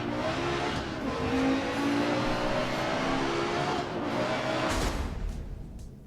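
Audi Quattro rally car in the Dirt Rally game, its engine roaring hard and loud throughout while driving a German special stage, revs rising and shifting, with a brief gear change or pop near the end.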